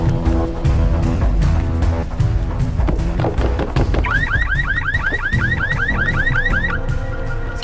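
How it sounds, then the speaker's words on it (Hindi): A loud car alarm on a green Volkswagen in a movie scene starts after a few heavy thuds and clatters, then cycles a rapid rising wail for nearly three seconds, close and piercing. "वो गाड़ी का अलार्म बज रहा है।"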